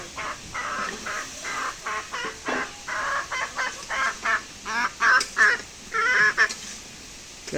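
Hens cluck in a rhythmic run of short, clipped calls, close by and fairly loud, coming faster and stronger toward the end.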